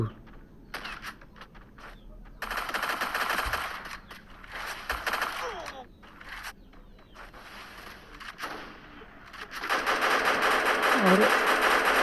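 Automatic gunfire from a shooter video game with sniper rifles, firing in rapid, crackling bursts that come and go across the stretch, loudest near the end, with voices in the background.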